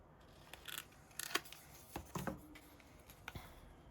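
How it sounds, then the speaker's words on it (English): Scissors trim paper for a junk journal, with a handful of quiet, crisp snips and rustles spaced irregularly across a few seconds, close and soft. "I'm just going to trim it down like this."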